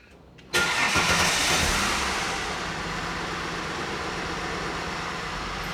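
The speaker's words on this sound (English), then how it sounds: "run the engine for another 5 or 10 seconds or so" A car engine starts abruptly and then settles into a steady, fairly loud idle after a fresh oil and filter change, with a bright broadband hiss running continuously beneath the motor.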